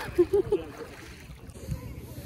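A boat on the Koshi river carries riders, with low engine-like rumble, water and wind noise throughout, and a few short voiced sounds near the start.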